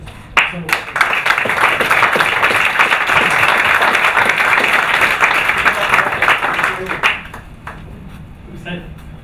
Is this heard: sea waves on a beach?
no